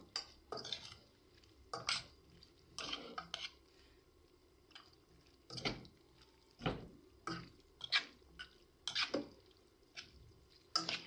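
Meat being stirred and mixed in a pot for a Moroccan wedding tagine, with intermittent clinks and scrapes of a spoon against the pot, close and moderately quiet, no talking.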